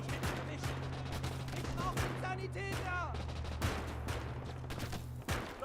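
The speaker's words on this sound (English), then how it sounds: "I love the range here for the gunfight." A Wehrmacht battle in Call to Arms: Gates of Hell fills with scattered rifle shots and bursts of machine-gun fire at mid distance, alongside a low steady rumble and occasional speaking voices.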